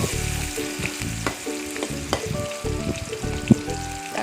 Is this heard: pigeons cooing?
no